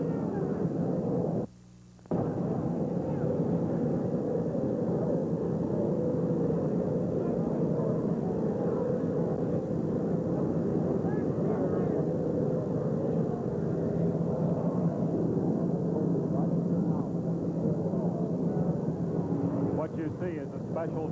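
An Army helicopter lands beside the presidential jet with a loud, sustained roar that fills the scene and barely breaks, while a voice talks over it.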